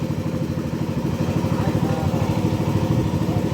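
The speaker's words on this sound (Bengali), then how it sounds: "মাতামুড়ি নদীতে ট্রলার দিয়ে পার হচ্ছিলাম।" A trawler boat's engine chugs loud and close with a fast, steady mechanical beat while crossing the Matamuhuri river in Bandarban.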